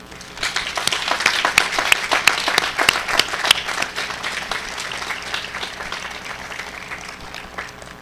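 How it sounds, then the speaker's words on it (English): Audience applause fills a university spring commencement ceremony, a dense wash of many hands clapping steadily for about eight seconds, loud and sustained with sharp individual claps standing out near the start. "please join me in a round of applause for everyone who helped you become a graduate here today."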